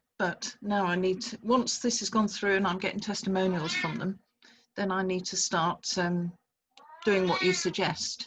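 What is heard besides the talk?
cat meowing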